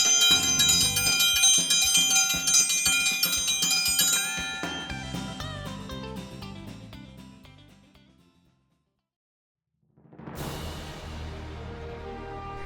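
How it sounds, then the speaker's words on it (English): A ranch dinner bell at a Montana mountain guest ranch rings in a bright, sustained clanging that gradually fades to silence, then starts ringing again, clear and fairly close, with no voices. "you hear them ring the dinner bell, you'll know it's time to eat."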